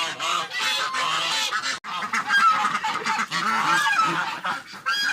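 Several domestic geese at a farmstead honk loudly and repeatedly at close range, overlapping calls in a busy, almost continuous chorus.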